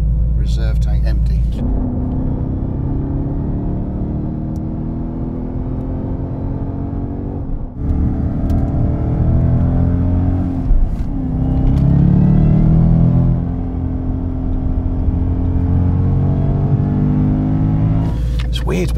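An 808 bhp Shelby Mustang Super Snake drives with a loud, steady engine rumble and whir throughout, swelling briefly as it revs, with the engine dominating close by.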